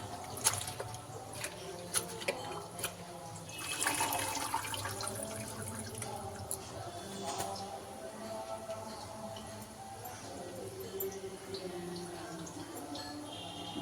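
Coriander leaves are rinsed under a running tap, a continuous close splash and trickle of water with occasional handling noises and clinks, moderately quiet throughout.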